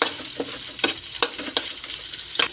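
Ginger and garlic sizzle in oil left over from frying tilapia, a steady hiss broken by several sharp scraping clicks of a stirring utensil, close and alone.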